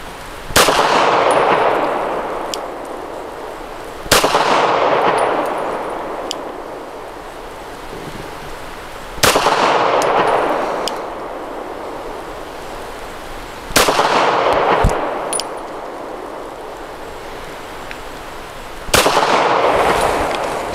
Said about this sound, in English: 5 shots from 7 yards using the same Ammo Inc. Stealth, 165 grain